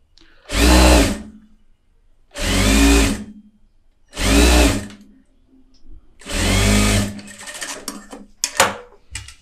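A sewing machine stitches piping on a blouse in four loud, close bursts of whirring motor with pauses between, then a few short clattering ticks at the end.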